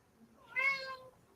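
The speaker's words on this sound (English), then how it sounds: "And that's my cat meowing." A house cat gives a single short, clear meow, fairly quiet and close, rising then falling over about half a second against a near-silent room.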